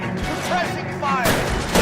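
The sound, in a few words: suppressing gunfire in LA Noire video game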